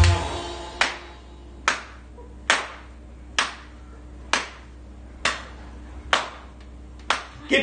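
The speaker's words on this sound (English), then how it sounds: "Just as the music is starting to finish, I'll point to you and you just clap slowly, right?" An audience at a live comedy show in Luton claps in a slow, deliberate rhythm, about one sharp clap per second, nine in all, over a quiet room.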